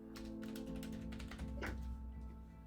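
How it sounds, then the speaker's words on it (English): Soft, quick keystrokes patter on a computer keyboard in irregular bursts, faint and close, with a low steady hum in the room behind them. "Typing on the wrong keyboard."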